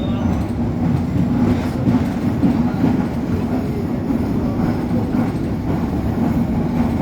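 A short three-coach train rattles along with a heavy, steady rumble, its coaches clattering and jolting against each other as if pulling apart, loud and close from inside the carriage.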